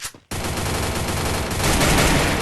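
Rapid automatic gunfire rings out in the Free Fire clash squad mobile game in first-person mode. A brief lull gives way to a loud, dense fusillade that grows heavier toward the end.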